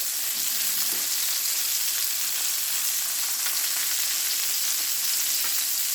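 Salmon fries flesh side down in garlic butter with a steady, loud, close sizzle that holds evenly throughout, with no talking.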